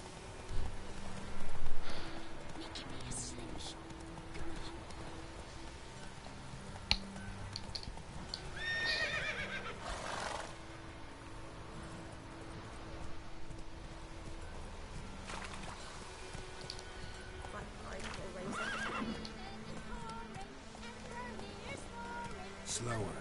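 A horse in The Witcher game clip-clops along at pace and lets out a whinny, with a loud impact early on and people talking over the hoofbeats throughout.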